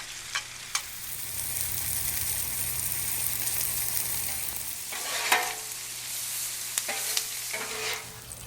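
Apples frying with butter and brown sugar on a Blackstone griddle, a continuous bubbling sizzle with a few sharp spatula scrapes and taps, especially toward the end, no one talking.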